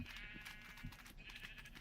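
Sheep bleat repeatedly in Minecraft, short game-style cries over a steady background hum, fairly faint and with no voice over them.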